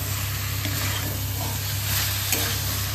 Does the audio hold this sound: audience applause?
no